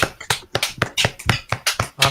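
Nine sharp hand claps at a steady, deliberate pace, close and fairly loud, with no voices over them.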